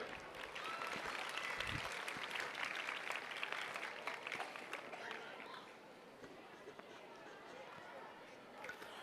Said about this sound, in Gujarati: જોરદાર તાળીઓ થવી જોઈએ